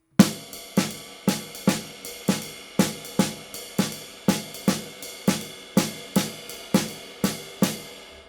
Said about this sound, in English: the clave example, the first bar of the clave